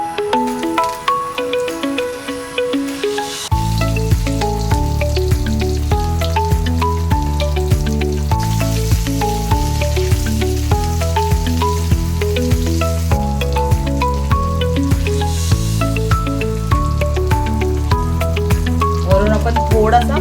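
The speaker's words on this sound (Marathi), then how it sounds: "मी आता तेलामध्ये सोडते." Stuffed bangda mackerel fries in oil on a flat tawa, a steady sizzle partly buried under loud melodic background music that plays throughout.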